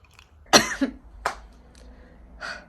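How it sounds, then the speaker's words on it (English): Two or three sharp, close coughs, the first loudest, separated by short pauses with no talking. "One day this cough will leave me."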